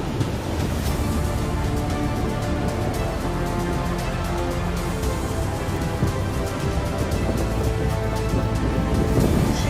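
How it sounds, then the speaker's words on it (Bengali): Heavy monsoon rain in Cox's Bazar, Bangladesh, pours steadily in a dense, unbroken roar, with a wind-like rush and no voices. "বৃষ্টি বেশ জোরেই নেমেছে"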